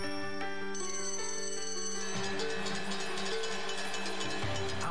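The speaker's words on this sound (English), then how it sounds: "every day when this bell rings" The closing bell of a stock exchange rings with sustained, bright metallic tones, then fades into a broad wash of crowd noise and cheering, fairly loud and close.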